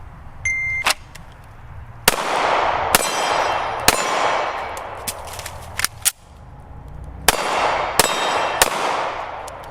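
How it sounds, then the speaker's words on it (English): Gunshots fired one at a time at a cardboard target, a steel gong and a steel bear target, loud sharp cracks followed by ringing metallic clangs, about eight shots in uneven rhythm with a pause partway through for a reload. "I'm gonna take one shot at each target, one at the cardboard, one at the gong, one at the bear, reload, one at the bear, one at the gong"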